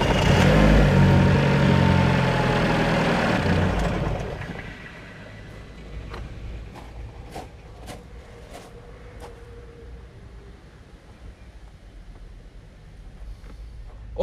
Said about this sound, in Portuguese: Então vamos ligar o carro agora e ver se funciona